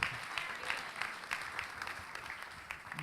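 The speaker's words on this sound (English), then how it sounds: "I think we should applaud that answer." Soft, distant applause from a small group listening to a question-and-answer talk continues evenly for a few seconds, faint and fairly uniform throughout.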